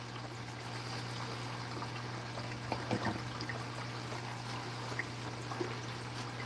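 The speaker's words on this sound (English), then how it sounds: "there'll be a little space between the outflow pipe and the water, and it'll sound like a creek" Water trickling from an outflow pipe with a small gap above the water surface, a steady creek-like babble alongside a constant low hum, with faint soft splashes scattered through and no talk.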